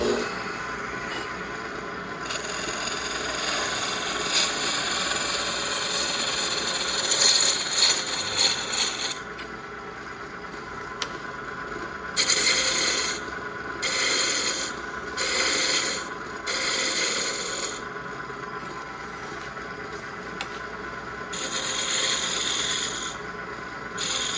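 Wooden tool handle spinning on a lathe while a turning tool cuts it, a continuous motor hum beneath scraping and rubbing passes that come in uneven bursts, close by.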